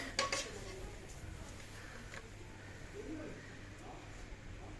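Frying pans, 28 cm colored models on a store shelf, clank and rattle against each other in a few sharp metallic knocks early on, then softer handling under quiet talk.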